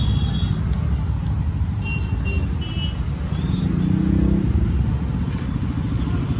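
Steady road traffic on a busy Sunday street in India, a dense wash of car and motorcycle engines with occasional horn-like tones, continuous and close, under faint talk.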